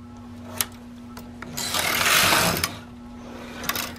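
A knitting machine carriage slides across the needle bed while knitting a round baby blanket, a swelling mechanical whoosh and rasp lasting about a second, with light clicks before and after.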